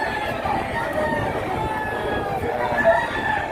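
Chickens and roosters crowding a rooster market, with crowing and clucking heard through a steady hubbub of voices and background chatter.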